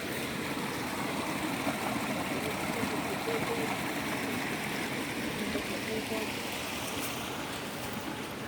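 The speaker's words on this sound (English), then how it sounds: "Oh, there's another little waterfall." A small waterfall on a hike, a steady close rush and splash of falling water filling the whole clip at an even level.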